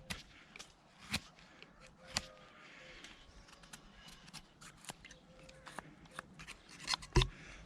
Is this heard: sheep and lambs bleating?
no